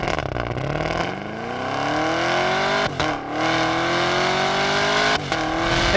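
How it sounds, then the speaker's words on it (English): A 2020 Chevy Camaro ZL1 1LE engine revs hard and launches with launch control, its pitch climbing steadily through gear changes with brief dips between shifts, loud and close. "'20 Chevy Camaro ZL1 1LE with launch control."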